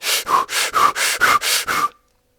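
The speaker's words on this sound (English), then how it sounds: "Another type of breath you can do is called the breath of fire." A rapid, forceful breath-of-fire breathing exercise: eight sharp, evenly spaced exhalation bursts, each a loud noisy whoosh with a slight whistle, then an abrupt stop into silence.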